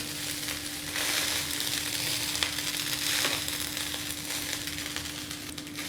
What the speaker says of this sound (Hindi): फ्लेम को हाई रख के इस तरह से हम 2 से 3 मिनट राइस को फ्राई करते रहेंगे सारी चीज़ों के साथ